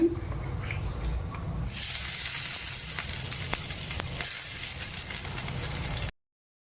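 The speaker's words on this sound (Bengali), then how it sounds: "ভাজাটা শেষ হয়ে গেছে এবার রসুন কুচিটা দিয়ে" Chopped garlic sizzles in hot white oil with a little butter, a loud, steady frying hiss that starts abruptly and runs close-up for about six seconds before cutting off.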